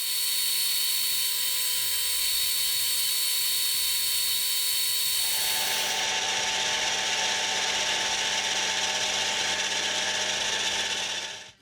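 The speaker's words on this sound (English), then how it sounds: "I'll just turn down a little section here for an M10 thread to bring this tip and body together" A metal lathe turns down a short section of a scribing tool part for an M10 thread, a steady mechanical whir and gear hum that grows into a louder, brighter cutting hiss partway through, with no voices.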